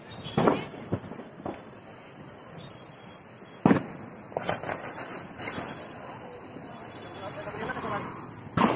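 Diwali firecrackers and rockets go off in Haridwar, sharp scattered bangs and crackles at irregular intervals, a loud blast midway followed by a rapid string of pops, over a background crowd murmur.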